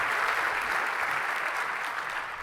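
An audience at a SXSW conference talk applauds steadily, a dense continuous round of clapping that carries on alone and tapers slightly at the close.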